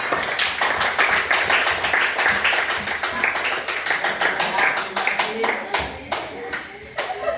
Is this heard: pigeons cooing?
no